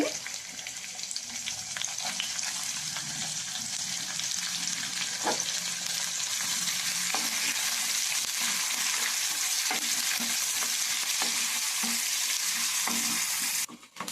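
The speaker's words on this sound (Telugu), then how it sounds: "ఫ్రెండ్స్ కొంచెం లైట్గా ఉల్లిపాయ వేగిందండి." Thinly sliced onions with curry leaves fry in a pan for a stuffed brinjal dish, making a loud, continuous, close sizzle with occasional light spatula taps that cuts off abruptly at the end. No one speaks.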